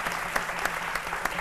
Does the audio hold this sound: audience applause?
yes